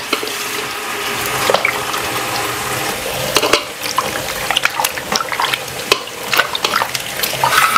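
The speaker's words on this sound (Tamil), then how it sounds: "தண்ணி ஊற்றிட்டு நல்லா 2 முறை நல்லா கழுவிடலாம்." Tomatoes being washed in water for making tomato pickle, with continuous splashing and running water plus scattered sharp clinks and knocks close by; no talking.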